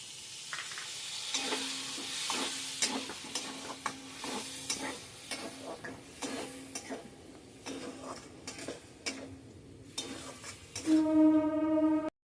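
Ground coriander, cumin and chilli masala with water in a pan for a prawn and elephant-foot yam curry: a soft sizzle under steady rhythmic taps and scrapes of a spoon, ending with a brief ringing tone.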